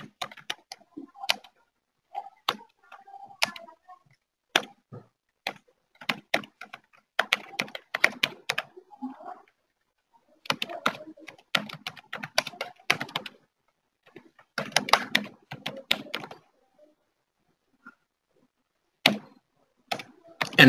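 Someone types C# code on a computer keyboard, close clattering keystrokes arriving in quick irregular bursts separated by short pauses, with no talking.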